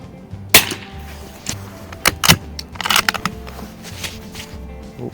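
A few sharp .22 LR rifle shots from a Winchester 52C or Mossberg, crisp cracks spaced irregularly over a quiet outdoor background, moderately close.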